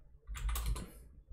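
A short burst of typing on a computer keyboard, several quick clicks close to the mic, with no talk.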